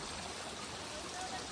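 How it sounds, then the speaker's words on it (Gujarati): Mountain stream and waterfall water flowing on Girnar mountain, a continuous close rushing hiss that stays even throughout the short stretch. "તમારે નહીં સાતા ને ત્યાં પાણી નો ધોધ છે"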